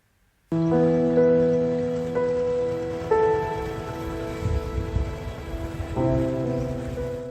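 Heavy rain falls in Uttar Pradesh, steady and dense for several seconds, overlaid with sustained tonal hum layers that shift a few times, no speech.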